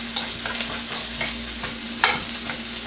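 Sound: stirring onions and garlic for red snapper sarciado

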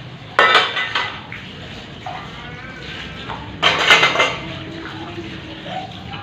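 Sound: washing dishes, pots and pans

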